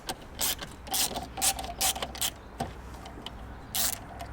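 Ratcheting clicks from a wrench undoing 10 mm bolts on a Honda Integra DC5 Type R, quiet bursts of rapid clicking repeating in short bursts at close range, with no talking.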